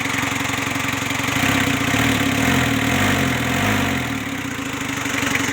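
A 2002 pickup's 2.5-litre diesel engine idles steadily nearby, a constant rumbling drone with a slight throb, no voices over it.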